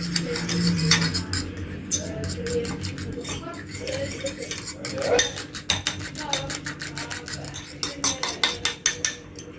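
A spoon or whisk clinks repeatedly against a bowl while cake batter with chocolate flan powder is stirred, the strokes quickening into a fast, steady tapping rhythm toward the end.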